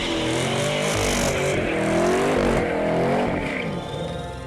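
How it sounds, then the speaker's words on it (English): A Chevrolet Camaro ZL1 engine roars during a test drive, loud and close, rising and falling as it accelerates and revs, with a hint of tire noise and no talk. "This is the fastest and most powerful Camaro yet, the ZL1, and this is the 2-minute test drive."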